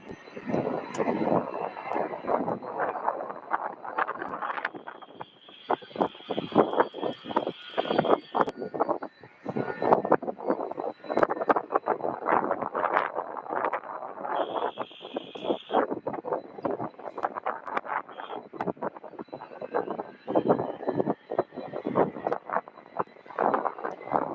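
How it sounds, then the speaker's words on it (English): A UPS MD-11 jet taking off at Louisville airport, its engines building into a loud, sustained roar that rises and fluctuates over more than twenty seconds, heard from a distance on the field with no talking. "Wow, that is a pretty smoky UPS MD-11 takeoff right there."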